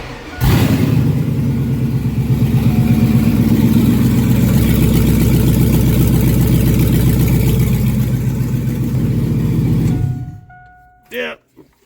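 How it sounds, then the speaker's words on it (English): 2001 Chevrolet truck engine on open headers with no exhaust, loud and close, with a steady chopping rumble for about ten seconds before it stops, and a voice speaking briefly afterward. "what the truck sounds like without any exhaust, just open headers"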